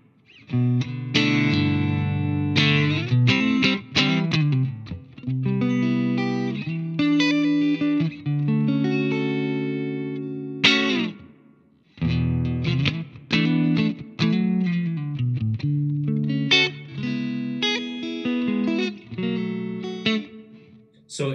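An electric guitar plays chords and melodic runs through a Fender Mustang Micro amp with a spacious, lingering large hall reverb, loud and continuous with brief pauses.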